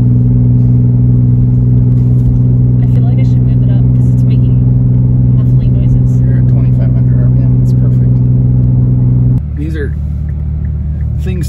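An Infiniti Q50 engine, driven with paddle shifters, drones loudly and steadily up close. The pitch drops abruptly near the end, as at a gear change.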